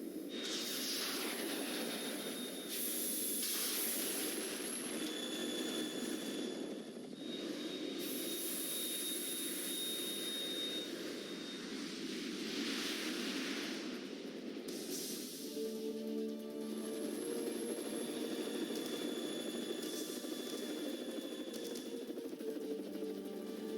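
A Harrier jet's engine roars steadily in Metal Gear Solid 2, a loud sustained whine and rumble with shifting tones throughout, accompanied by game effects.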